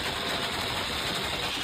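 A motorcycle with an open pipe, its engine running hard in a continuous loud, rough roar without breaks or voices.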